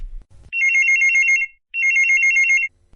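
Two bursts of a trilling electronic telephone ring on a Hindi radio farmers' phone-in show, each about a second long with a short gap between, loud and clear with no voices over them.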